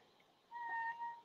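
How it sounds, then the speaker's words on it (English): A house cat gives a single soft, drawn-out meow indoors, faint but clear against a quiet room. "We've got the cat joined us."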